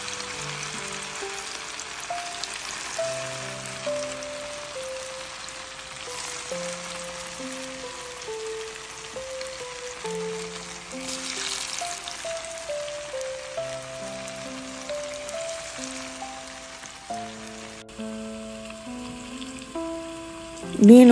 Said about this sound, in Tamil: ஒரே டயத்தில் எல்லா ஃபிஷ்ஷும் போட்டு வறுக்காமல் ஒரு 7 பீஸாக நம்ம வறுத்து எடுத்துக்கலாம்.